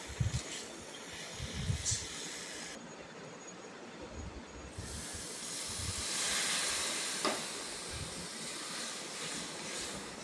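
Warm water hits the tarka dal spices in the pan, setting off a broad, steady hiss of sizzling that swells and lingers at close range.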